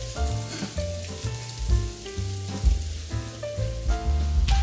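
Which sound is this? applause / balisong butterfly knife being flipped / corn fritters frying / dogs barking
corn fritters frying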